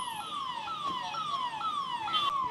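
An ambulance siren stuck in a traffic jam on a main road in Ranchi, a steady repeating falling wail cycling about every half second, fairly distant and moderately loud over street noise.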